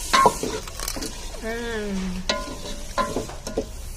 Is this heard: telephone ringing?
no